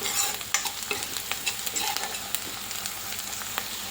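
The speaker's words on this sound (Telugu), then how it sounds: "గోల్డ్ కలర్ వచ్చేంత వరకు వేయించుకోవాలి మీడియం ఫ్లేమ్లో పెట్టుకొని వేయించుకోండి" Onion pieces frying in a pan over a medium flame, a steady sizzle broken by sharp clicks and scrapes of stirring, close and fairly loud with no talking.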